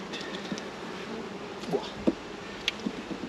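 Honey bees buzzing during a hive inspection, a close, busy drone of many wings with brief louder passes and faint handling knocks over a short stretch.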